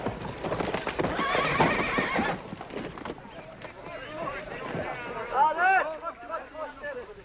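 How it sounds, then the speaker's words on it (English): A horse whinnies loudly with pounding hoofbeats, while people talk and murmur nearby. "That's what I call riding a horse."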